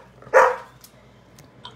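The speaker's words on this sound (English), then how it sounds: "Bark, bark, bark, eh?" A single sharp dog bark sounds close by, followed by quiet room ambience with a couple of faint small clicks.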